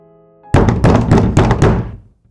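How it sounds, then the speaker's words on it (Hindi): Knocks on a door in a horror story, five heavy, resonant thuds in an uneven rhythm, loud and close, coming out of silence and fading after the last blow. "अचानक दरवाजे पर फिर दस्तक होने लगी।"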